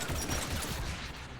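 Gunfire from Geth enemies in the sci-fi shooter Mass Effect 3, a brief dense rattle of shots at moderate distance, steady and unbroken for just over a second.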